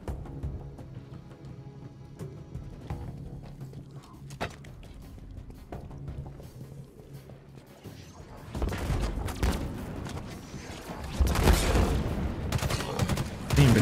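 Gunfire in the video game Halo Infinite, scattered shots at first that build into louder, rapid bursts of automatic fire over the second half.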